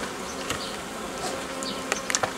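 Honeybees buzzing in an opened hive during spring hive work, a dense steady drone close by with a few louder individual bees passing near toward the end.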